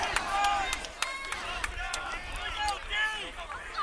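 Fans at a high school football game between Lawrence Academy and Milton Academy cheer and clap ahead of a fourth-down play, a dense crowd roar with scattered claps and excited voices throughout, steady and fairly loud.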